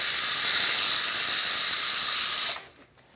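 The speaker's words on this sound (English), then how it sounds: "we're seeing a nice steam coming out through the assembly" Steam hisses steadily and loudly from the brewing assembly of a Jura A9 automatic coffee machine with no hose fitted, then cuts off abruptly near the end, leaving near silence.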